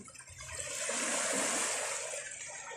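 Sea water splashes and rushes softly during a boat trip, one swell of spray rising and fading over a few seconds.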